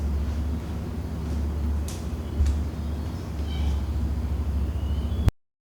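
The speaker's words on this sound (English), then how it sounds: "the cat sound you are hearing at the background of most of my videos is Goose." A pet cat named Goose gives a few faint, short meows in the background over a steady low room hum, and the sound cuts off abruptly at the end.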